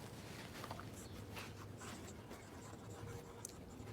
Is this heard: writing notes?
yes